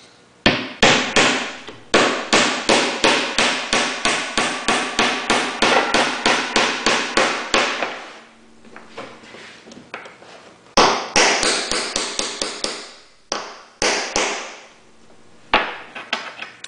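Rapid series of sharp hammer knocks driving a fastener into a ready-to-assemble furniture modesty panel, dozens of evenly spaced hits in a steady rhythm, close and loud, followed by a pause and a few scattered final taps.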